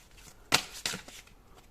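Tarot cards shuffled and drawn by hand, producing two short, crisp riffling bursts close by in a quiet room, followed by a softer brush of card against card.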